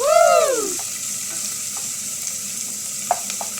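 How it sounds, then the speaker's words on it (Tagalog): Onion and garlic sauté in hot oil for a Filipino vegetable dish, sizzling continuously close up as a utensil stirs, with a brief whooshing tone at the start and a couple of light clinks. "halu-haluin natin para di masunog haluin pa hanggang maluto ang sibuyas at bawang"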